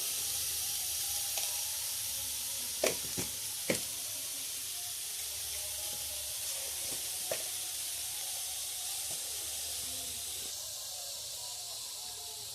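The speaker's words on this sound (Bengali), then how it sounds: "নাড়া টাড়া করে নিচ্ছি কপিটাকে" Cauliflower fries in a pan with a steady soft sizzle and hiss, faint and even, broken by a few sharp clicks of stirring.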